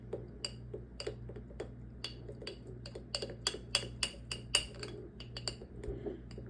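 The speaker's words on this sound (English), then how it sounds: "Now I'm just gonna give this a quick stir" A utensil stirs sourdough starter of flour and water in a glass container, making a run of light, uneven clinks and taps close by, busier toward the middle.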